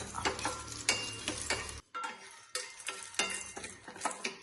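Cardamom pods dry-roasting in a pan for homemade garam masala, a rapid rattling and scraping as the pods are stirred, close and busy with a brief pause partway through and no speech.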